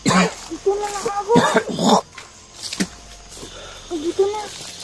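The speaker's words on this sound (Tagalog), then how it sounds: "Inuubo ako." A person coughs and clears their throat in short bursts amid strained talking during a tense rescue, the coughs close and mixed with speech.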